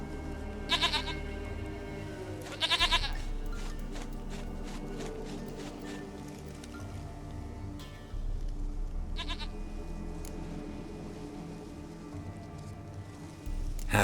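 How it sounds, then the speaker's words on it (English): Goat bleating in The Witcher 3 video game, several short bleats at separate moments over a steady ambient bed with faint rain, moderately quiet and heard alone. "Goat of mine, dearest, sweetest goat."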